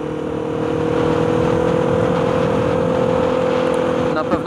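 A two-cylinder Access quad bike engine runs at a steady, strong, droning hum close by, rising slightly early on and holding level, with a brief knock near the end.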